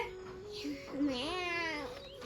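A child imitates a cat's meow with a single drawn-out, rising and falling voiced mew, close and fairly loud, after a brief adult voice.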